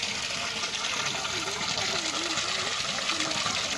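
Water from a spring at the Malluru Lakshmi Narasimha Swamy temple gushes in a steady, close rushing stream while a voice speaks over it.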